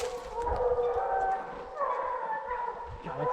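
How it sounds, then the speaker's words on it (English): Hunting hounds bay at a bear treed in the Virginia woods, with several drawn-out howls and yelps overlapping fairly close by in a steady chorus. "Some dogs just treed this bear right here at us."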